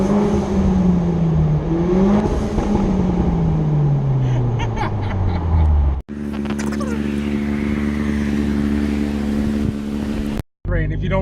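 A loud car engine booms and echoes inside a road tunnel, revs sweeping down then holding a steady roar before cutting off abruptly, with a voice talking over it.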